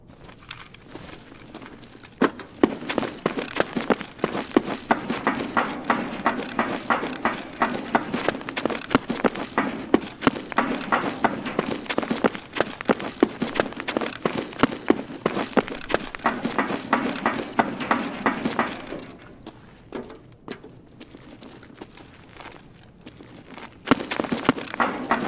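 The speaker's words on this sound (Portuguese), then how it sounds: "Parecendo um cavalo." Rapid, heavy footsteps in Escape from Tarkov on a factory map, thudding in a steady galloping rhythm like a horse's hooves, loud and continuous for most of the stretch before briefly dropping off and returning.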